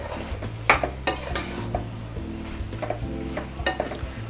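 Jackfruit thokku stirred in a pan, with sizzling under irregular metallic scrapes and knocks of a spoon against the pan, close and moderately loud, several sharp clinks standing out.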